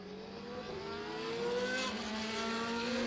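Race cars, led by Simone Colombo's Dallara GP2 car, follow the safety car at Monza, a steady engine drone rising gradually in pitch at moderate distance, with no voices.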